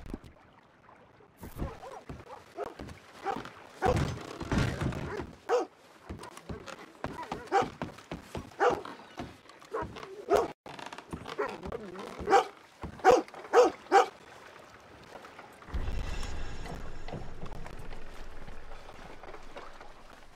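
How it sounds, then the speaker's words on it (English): A dog in Red Dead Redemption 2 barks in bursts, sharp and fairly close, among hoof clops and other game sounds, with a steadier noise rising near the end. "You're a good dog."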